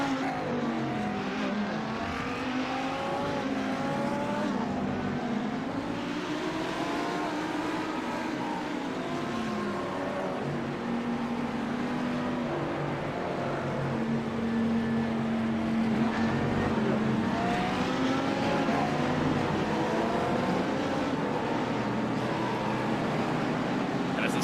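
GT3 race cars circle the Daytona banking behind a safety car in a racing video game, a continuous, even engine drone that stays steady throughout.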